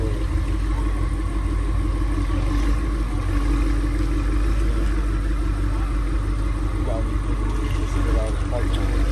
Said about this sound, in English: Yeah, you could just hear he got upgraded turbos,